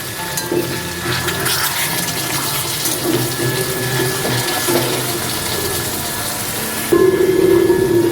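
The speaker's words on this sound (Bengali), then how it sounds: "অল্প জল দিচ্ছি" Water poured into a pan of chicken kosha with fried potato and dry red chilli powder, a steady watery rush that changes to a louder burst near the end, with no talk.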